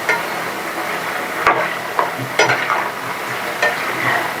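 Potato and pumpkin fry together in oil, giving a steady crackling sizzle close by. Several sharp scrapes and knocks of a spatula stirring against the pan break through at intervals.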